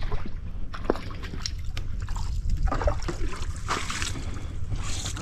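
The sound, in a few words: water being bailed and poured out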